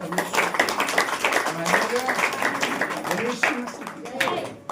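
A church congregation at a Hindi worship meeting claps hands, fairly rhythmic clapping running under a preacher's continuous amplified speaking and singing voices.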